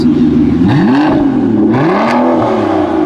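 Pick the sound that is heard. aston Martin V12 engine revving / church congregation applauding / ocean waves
aston Martin V12 engine revving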